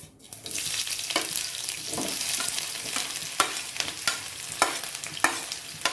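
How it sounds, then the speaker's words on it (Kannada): Onion frying in hot oil with mustard seeds for a fenugreek-leaf and raw banana stir-fry, a continuous sizzle with regular scraping stirs of a spoon against the pan. "ಈರುಳ್ಳಿ ಒಂದು ಸ್ವಲ್ಪ ಫ್ರೈ ಮಾಡ್ಕೋತೀನಿ"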